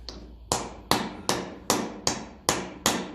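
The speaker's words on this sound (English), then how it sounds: "So I'll get a little piece of timber just to drift that in. Plastic hammer." A plastic hammer strikes a timber drift seven times in steady succession while working on a Massey Ferguson 35 tractor, each blow a sharp, close knock with a short ringing decay.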